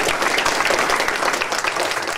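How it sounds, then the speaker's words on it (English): Dense, steady applause from an academic audience honoring faculty authors, a continuous wash of many hands clapping at moderate volume throughout the short stretch. "So let's please applaud all of the authors today."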